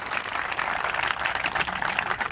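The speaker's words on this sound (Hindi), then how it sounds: "तालियां बजा दो जरा एक बार जोरदार साहब" Applause from a seated audience at a Hindi kavi sammelan poetry recital, a steady dense wash of clapping sustained evenly throughout at moderate level with no voices.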